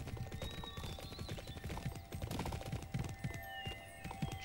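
Horse hooves clip-clopping along in the Bibi & Tina: New Adventures with Horses video game, a steady stream of soft hoof falls under busy game sounds, with a whinny-like tone in the background.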